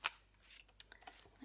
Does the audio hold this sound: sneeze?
no